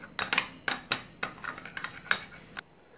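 A spoon clinks and scrapes against a bowl while mixing a homemade hand-care paste with a capsule of oil, a quick series of sharp, close metallic taps and strokes, then stopping.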